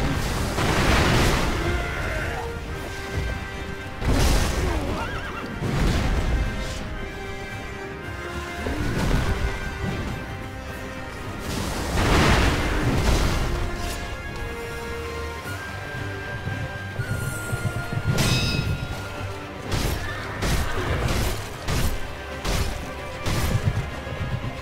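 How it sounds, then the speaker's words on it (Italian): Repeated heavy booms and smashing impacts in the Sekiro boss fight against Gyoubu Oniwa on horseback, as Shinobi firecrackers burst and startle the horse, loud and recurring every few seconds amid constant clashing game noise. "eccoci qua ad utilizzare la castagnola Shinobi che spaventa il cavallo e che ci dà secondi preziosi per infliggere dei danni al boss"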